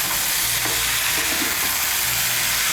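Mixed summer vegetables for a vegetarian panch mishali sabji sizzle loudly in a pan over high heat with cumin powder, a dense, steady frying hiss throughout with occasional stirring scrapes.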